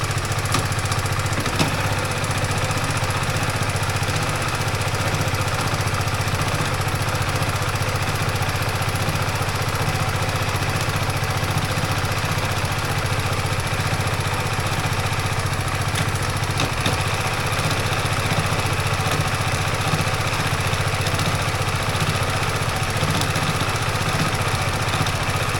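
A BMW G310GS motorcycle engine runs steadily at idle after a front drive sprocket change, a constant close mid-pitched thrum with a faint ticking texture and no talking, holding evenly for the whole stretch.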